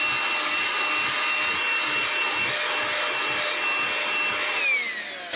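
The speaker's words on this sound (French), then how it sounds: "en puissance d'aspiration, vous voyez, ça aspire vraiment bien" A Makita DCL180ZB cordless 18V vacuum cleaner runs steadily with a high-pitched motor whine and airy suction hiss, close and loud with no talking, its tone dipping slightly near the end.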